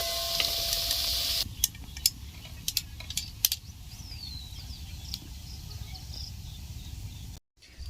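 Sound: semolina and potato snacks deep frying in oil

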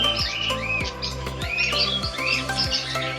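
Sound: birds calling in a zoo aviary

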